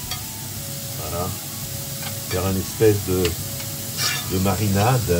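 Fresh vegetables being stirred in a sizzling wok, with scraping and clattering strokes over a steady frying hiss while a person talks nearby.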